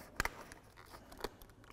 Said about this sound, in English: to open this plastic, you're probably gonna destroy the scissors anyway